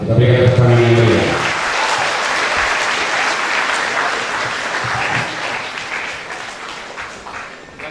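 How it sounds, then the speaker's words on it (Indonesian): Warm applause from a seminar audience at Politeknik Negeri Medan, a full crowd of hands clapping steadily and fairly close. It rises right after a voice finishes speaking, then holds an even wash before easing off slightly toward the end. "Kita berikan tepuk tangan yang meriah."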